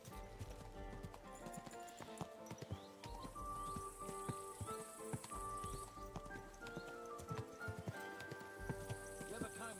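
Horse hooves clip-clop in an uneven walking rhythm on hard ground, close by, with music playing throughout and a brief snort or whinny.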